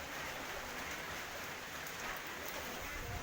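Steady rain falls in a storm in Laos, a dense, even hiss of drops on surfaces that fills the short stretch without pause, with no voices heard.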